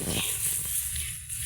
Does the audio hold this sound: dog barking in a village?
yes